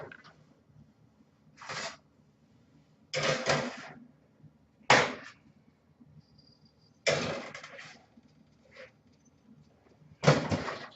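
Cookie trays go into a home oven with several sharp clunks and bangs of the oven door and racks, separated by quiet gaps and ending in a final thud.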